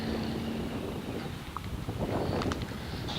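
Outdoor wind blows during a car wash with soap mixture sitting on the paintwork, a steady broadband rush with buffeting on the microphone and a few faint clicks.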